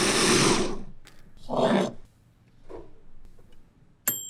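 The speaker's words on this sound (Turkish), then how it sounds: "Sebze püresini öğütün." A blender grinding a vegetable puree with canned tomato puree, tomato paste, sugar, pepper, salt, vinegar and olive oil, whirring in short pulses of a second or so separated by quiet gaps, then a sharp click at the end.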